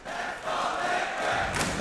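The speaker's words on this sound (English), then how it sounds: "the crowd love it" Esports arena crowd at a Dota 2 match between BetBoom Team and Team Liquid at ESL One Bangkok, a dense, steady roar of cheering voices that swells louder midway and peaks again near the end, with no clear talk over it.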